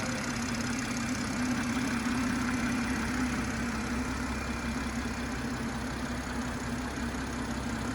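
A BMW M140i petrol engine idles steadily in the open engine bay, a continuous close hum with a faint ticking texture and no talk over it.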